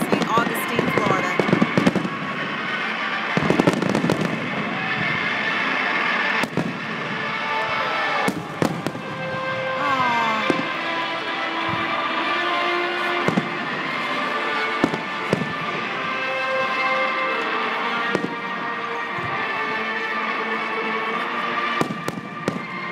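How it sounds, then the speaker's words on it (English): Fourth of July fireworks in St. Augustine, Florida: repeated loud booming bursts and crackling at irregular intervals over about twenty seconds, with whistling rises and a faint crowd murmur in between. "Hope you've enjoyed a little bit of the fireworks here on the 4th of July."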